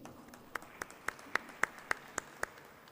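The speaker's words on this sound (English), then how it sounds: "Please give him a round of big applause." Scattered hand claps from a conference audience, roughly nine distinct claps in a loose rhythm, moderately faint and slightly distant, with no talking over them.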